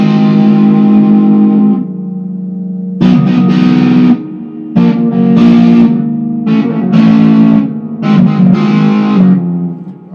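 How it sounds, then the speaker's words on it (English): An electric guitar plays through a 1983 Peavey Road Master amp set to heavy distortion, loud sustained chords in repeated bursts with short gaps, fuzzy and saturated with some echo. "That's about the heaviest distortion I could dial up."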